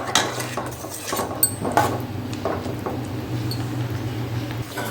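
A spoon stirs eggplant tamarind curry made with roasted eggplant in a pan over medium heat, giving soft irregular scrapes and clinks close by over a low steady hum, with no talking.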